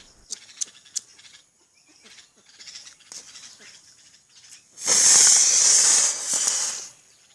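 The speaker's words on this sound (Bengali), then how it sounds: "এই ড্রিঙ্কের বোতলেই রকেট বুস্টারটিকে রেখে পানিতে ফায়ার করব, অর্থাৎ রকেট বোতল ফায়ার হবে আজ" A rocket booster fires inside an energy drink bottle in water, giving a loud, close roaring hiss that lasts about two seconds after a few sharp clicks and quiet rustling.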